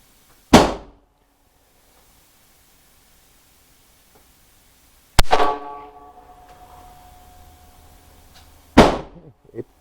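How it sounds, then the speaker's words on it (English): A Ruger LCR revolver firing Federal Small Game #12 lead shot .22LR at a target: three loud, sharp reports spaced several seconds apart, each with a brief ringing tail in the quiet gaps between. "We're going to shoot at the bottom right hand target. Up to 8 shots."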